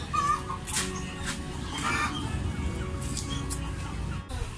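Two native chickens cluck in a rural home kitchen, with soft intermittent clucks over a steady low background hum and faint voices.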